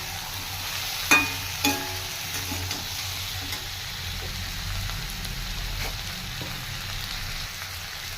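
Spices such as turmeric, black pepper and garam masala sizzle steadily in a pan for potato and parwal sabji, with a couple of sharp spoon knocks early on and a constant frying hiss throughout.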